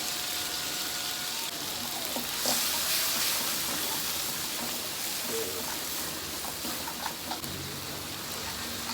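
Basil and green onion stir-fried in a pan, a soft steady sizzle with light scraping and stirring noises, fairly quiet and close, with no voices.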